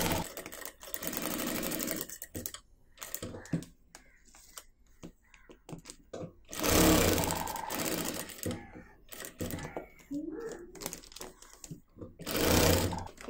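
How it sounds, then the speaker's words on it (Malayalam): A sewing machine stitches along the four sides of a fabric piece with a plastic sheet inside, running in bursts with pauses between, the motor whirring loudly and close with no talking. "എന്നിട്ട് നമുക്ക് ഈ നാല് സൈഡും ഒന്ന് സ്റ്റിച്ച് ചെയ്ത് കൊടുക്കണം."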